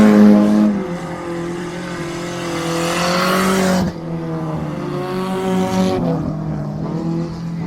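Race cars roaring past during a heat race, loud engine drones rising and falling as each car passes, with a second pass and a fading tail at the end.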